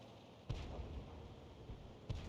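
Enemy artillery shells firing in World of Tanks during a KV-2 match, heard as three dull, booming thumps spaced apart over a steady low battlefield rumble, fairly distant and muffled.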